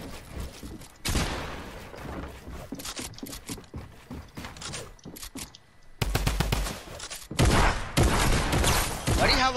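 Rapid, loud shotgun fire in a video game, a dense barrage of sharp blasts in irregular bursts with brief pauses, growing heavier and more continuous toward the end.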